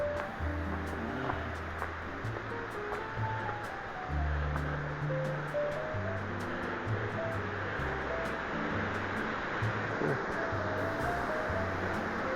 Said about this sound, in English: Just that waterfall opposite us there, really. Obviously leading down into the gorge.